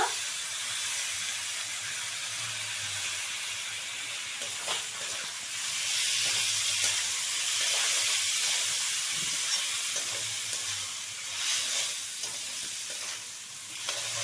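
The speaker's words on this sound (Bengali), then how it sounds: "এই যে চালটা দু তিন মিনিট ভাজলাম ভাজা হয়ে গেছে" Soaked Gobindobhog rice frying and being stirred in a pan, a steady close sizzle and hiss with soft scraping stirs, swelling and easing over time, no voices.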